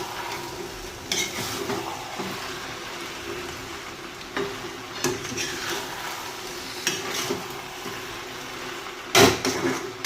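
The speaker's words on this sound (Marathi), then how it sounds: "आता यात सोयाबीन टाकून घेऊया. या सर्व सोयाबीन टाकून घ्यायचे आहे. आता हे छान परतून घेऊ." Soybean chunks are stirred in a pan for crispy soya chilli, with scattered scrapes and clinks of a spoon against the pan over a soft background sizzle, one sharp clack near the end.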